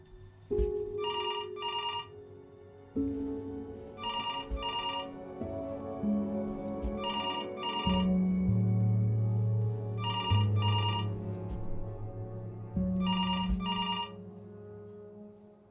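A telephone rings in the video game Before Your Eyes, five evenly spaced double rings over a low, sustained musical score, clear and moderately near.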